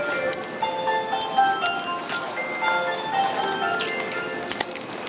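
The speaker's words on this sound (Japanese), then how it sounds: "大阪環状線は発車メロディーがあるそうだな。" Departure melody at Kyobashi station on the Osaka Loop Line, a cheerful chiming jingle of tonal notes over platform ambience, heard steadily throughout with no talk.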